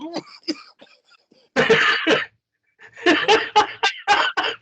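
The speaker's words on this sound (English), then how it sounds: "You get that post nasal drip and you start coughing" A person coughs from post-nasal drip in a few loud, close bursts, first a short run of throat-clearing sounds, then a longer spell of hacking coughs after a pause.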